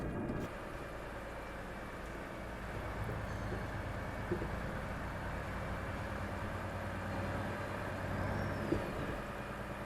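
A Volvo FH 540 truck engine in Euro Truck Simulator 2 rumbles at a steady, continuous drone with a deep low-end hum, holding an even loudness throughout with no talking over it.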